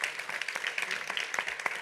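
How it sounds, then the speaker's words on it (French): An audience at a conference applauds with dense, steady clapping over a short stretch, moderately close. "On vous applaudit à nouveau."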